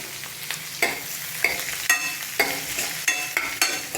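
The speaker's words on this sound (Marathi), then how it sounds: "आता एक मोठ्या आकाराचा कांदा असा बारीक चॉप केलेला त्याच्यात टाकायचा आहे. त्याला सोनेरी रंग येईपर्यंत आपल्याला फ्राय करून घ्यायचा आहे." Finely chopped onion fries in a pan, with a continuous sizzle broken by sharp periodic scraping strokes of a spoon stirring, close and alone with no talking.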